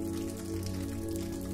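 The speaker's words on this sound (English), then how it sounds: "Let the soft whisper of rain be the last thing you hear" A gentle, unbroken wash of falling rain patters evenly throughout, over a faint steady tonal hum.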